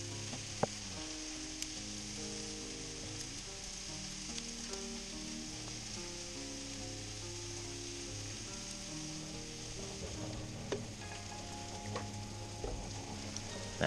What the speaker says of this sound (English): add the black beans and give them all a stir